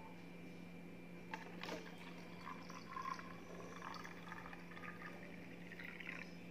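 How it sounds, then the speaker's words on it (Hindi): Faint water pours and trickles into a neti pot during a nasal cleansing routine. The splashes come in soft bursts against a quiet room with a low steady hum. "अब मैं पानी डाल लेती हूँ इसमें।"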